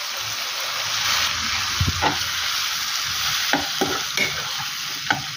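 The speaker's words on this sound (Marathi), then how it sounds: "आणि आता आपण यामध्ये टोमॅटोच्या फोडी टाकून घेणार आहोत." Chopped pieces of three large tomatoes go into a hot pan for a Maharashtrian tomato chutney, sizzling steadily while a spoon scrapes and stirs in several distinct knocks, close and fairly loud with no talking.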